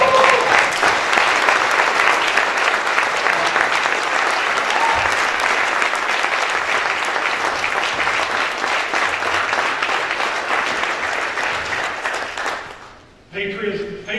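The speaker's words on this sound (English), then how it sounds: "stand up and give it a round of applause" Sustained audience applause fills a veterans' business event hall, a dense steady roar of many hands clapping at full strength for about twelve seconds before it abruptly fades away, and a voice then begins talking.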